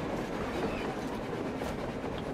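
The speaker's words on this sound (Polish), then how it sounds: "Pociągi jeżdżą, ej." A train rolls past in the snowy Moscow of the video game Metro Exodus, a steady, low, fairly quiet rumble of wheels and carriages that continues without a break.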